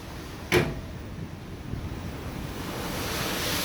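Open-ocean waves seen from a cruise ship in the Caribbean give a steady, broad rushing wash with wind noise, after one brief sharp knock near the start.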